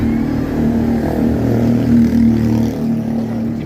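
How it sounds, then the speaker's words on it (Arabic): A car engine hums steadily on a busy main street in Alexandria during a driving lesson, with the throttle held up and the drone rising slightly, loud and close. "شغلي الموتور وزودي بنزين عشان خاطر المطلعايه"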